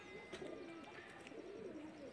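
Rampuri pigeons cooing softly nearby, a few low repeated coos with faint background noise.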